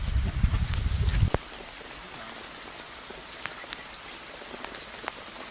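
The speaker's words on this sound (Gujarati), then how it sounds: "કારણ કે વરસાદ ફૂલ ચાલુ છે બરોબર અને બધું પલડી ગયું છે" A steady hiss of heavy rain with scattered drops tapping nearby, after a brief louder rumble at the start.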